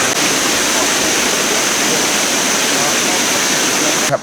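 Waterfall at Doi Luang National Park in northern Thailand, a limestone area closed to visitors after a collapse: a loud, steady broadband roar of falling water close by, unbroken for the whole stretch with no voices.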